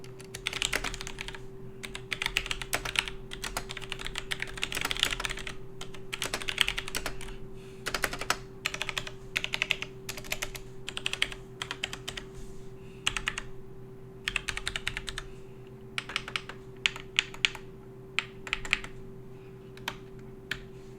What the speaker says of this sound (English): The keys feel good and they are quiet for a mechanical keyboard